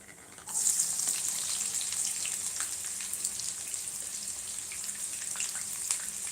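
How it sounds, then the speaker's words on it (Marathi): Finely chopped onion hits hot oil with cumin and breaks into a loud, steady sizzle that holds evenly from just after the start to the end, with no voices. "मी कांदा कापून घेतलेला होता बारीक तो टाकत आहे"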